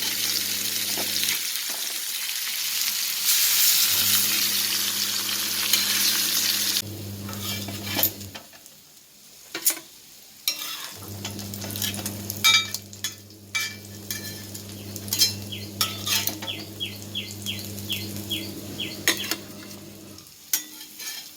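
Black pomfret fish roasting in coconut oil in a pan, loud crackling sizzle that starts and stops in bursts, with utensil clinks and scrapes as the fish is turned.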